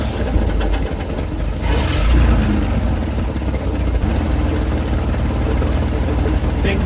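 1970 Chevrolet C-10 pickup engine running loud and close at a rough, steady idle with a brief swell in revs partway through, no talking over it.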